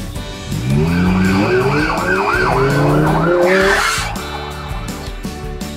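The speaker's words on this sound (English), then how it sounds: "Ambulance." A loud wailing siren sweeps up and down repeatedly, close by, with traffic noise underneath and a brief screech near the end.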